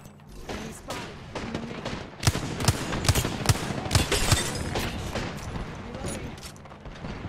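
Rapid bursts of weapon fire crack out in the battle royale game Apex Legends, sharp repeated shots clustered through the middle with an uneven rhythm, close and loud over game effects and a voice speaking briefly.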